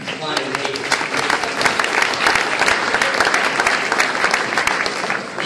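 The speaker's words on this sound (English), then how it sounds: "why don't you guys give yourself a round of applause" Banquet audience breaking into a full round of applause, a dense, loud, sustained wash of clapping from a crowd indoors that holds steady for several seconds with no talking over it.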